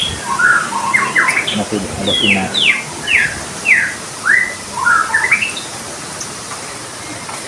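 A tame white-rumped shama sings a series of loud, clear whistled phrases in quick succession, with a brief spoken remark partly under the calls.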